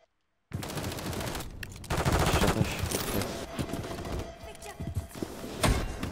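Rapid automatic submachine gun fire in a first-person shooter video game, dense bursts of sharp repeated shots that start abruptly and continue with brief gaps, loud and close, with a player talking over the gunfire.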